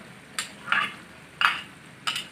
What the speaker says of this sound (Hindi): अब हम प्याज का पेस्ट डालेंगे।